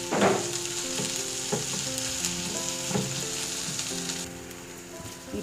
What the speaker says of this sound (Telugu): ఇప్పుడు అల్లం వెల్లుల్లి పేస్ట్ వేస్తున్నాను. ఇది పచ్చివాసన పోయేంత వరకు వేయించుకోవాలి.